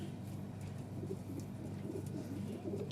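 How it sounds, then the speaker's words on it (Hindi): A Mooja pigeon with feathered feet, of a Punjabi breed, coos in a steady low rumbling murmur close by, with no talking. "ये मोजा कबूतर है, बहुत गजब कबूतर है जी, बहुत ही गजब।"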